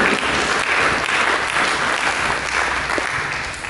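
A church congregation applauds in praise of Jesus during a sermon, a dense, steady wash of clapping that fills the whole stretch and eases slightly at the end.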